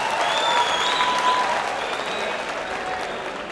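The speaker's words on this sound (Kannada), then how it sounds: "ಟಾಪರ್ಸ್ಗೆ ನಿಮ್ಮ ಜೋರು ಚಪ್ಪಾಳೆ" Loud applause from a large audience at a public event for gold-medal toppers, a dense, sustained roar of clapping that eases slightly toward the end.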